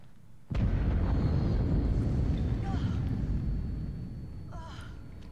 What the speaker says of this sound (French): C'est l'explosion qu'il y a eu là-haut, ça.